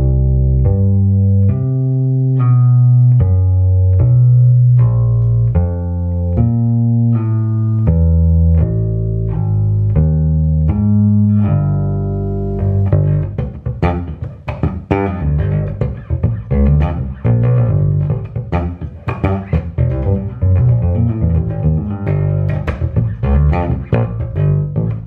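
Bass guitar plays a lick slowly, one deep plucked note after another with a sliding shape moving down the neck, then a faster busier run follows, close and loud with no talking.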